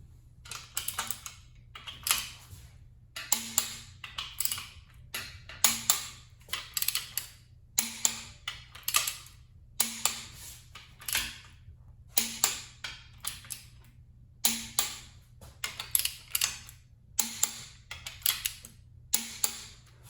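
Torque wrench clicking repeatedly while tightening the big bolts on a Ford 363 small block V8 during engine assembly, sharp ratcheting clicks in steady bursts with short pauses, close and clear, no talking.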